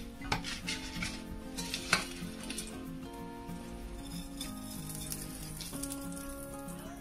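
Seafood fideuà noodles being stirred and turned in a frying pan, with metal utensil clinks and scraping over a steady sizzle, under soft background music.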